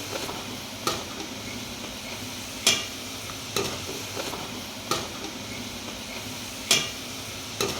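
Potato French fries deep-frying in hot oil, a continuous sizzle broken by sharp stirring scrapes and taps every second or so, close and fairly loud with no voices.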